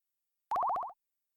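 A short synthesized retro game sound effect made with sfxr and played back from an exported WAV file: a quick bright run of about seven rapid bouncing chirps lasting under half a second, heard alone.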